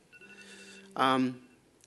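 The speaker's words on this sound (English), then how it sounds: "I think somebody's phone's ringing here, but I'm not quite sure whose it is." A mobile phone rings out in a lecture audience during a talk on optical fibre ageing, a sustained tonal ringtone for about a second before a louder burst of speech-like sound takes over.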